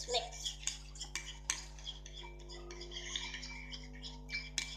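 Persil detergent and glue being stirred into slime in a container, with soft repeated scraping and clicking of the utensil, fairly quiet and close, with no talking.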